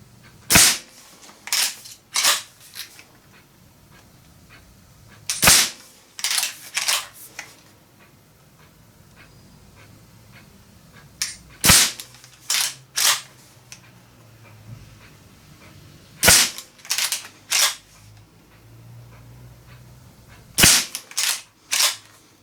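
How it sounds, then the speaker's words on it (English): A Reximex Lieva .177 PCP lever-action air rifle fires a series of sharp, crisp shots in small clustered bursts with pauses between them. Lighter clicks and taps follow the reports, heard close and alone with no talking. "So we'll get it loaded up and do some shooting with it."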